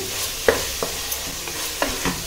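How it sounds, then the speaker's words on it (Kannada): Chicken marinated with yogurt and garam masala fries in oil for chicken biryani, a close, steady sizzle punctuated by several distinct spoon scrapes against the pan, with no one speaking. "ಇದೆಲ್ಲ 1 ನಿಮಿಷ ನೀಟಾಗಿ ಫ್ರೈ ಆಗಬೇಕು"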